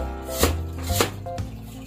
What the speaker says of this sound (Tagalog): Kailangan maghihiwa po tayo ng sibuyas para po sa ating suka.